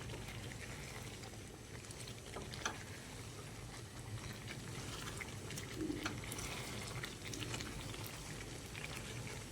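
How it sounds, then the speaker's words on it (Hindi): Spices for chicken drumstick korma fry in oil, giving a soft, steady crackle and bubbling sizzle that runs quietly and continuously, with faint scraping as they are stirred. "जब तक कि मिसालों का कच्चापन ख़त्म नहीं होता हम इसको इसी तरीके से भूनते रहेंगे।"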